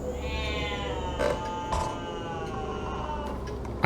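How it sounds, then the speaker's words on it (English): A cat meows in the Mystery Case Files: Ravenhearst hidden-object game, with a couple of short cries standing out over a steady background drone of ambient game music. "I can hear a cat."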